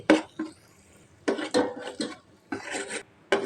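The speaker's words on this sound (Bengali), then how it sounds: "ক্যারামেল তৈরি করার সময় নাড়া দিতেই থাকতে হবে, না হলে পুড়ে যেতে পারে।" Utensil scraping and clinking against a pan while caramel is stirred over low heat, in short repeated bursts separated by quiet pauses, close and distinct.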